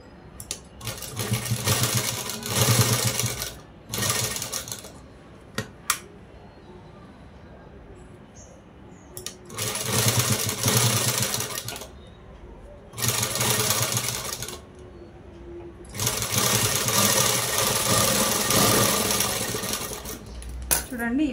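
A sewing machine stitches a jacket in several loud bursts of rapid whirring, separated by quiet pauses as the cloth is repositioned.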